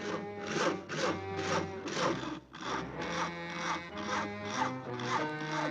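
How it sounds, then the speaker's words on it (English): Steady, rhythmic back-and-forth saw strokes cutting through a tree limb, about two strokes a second, close and moderately loud. "Isn't that your house Harry is sawing on"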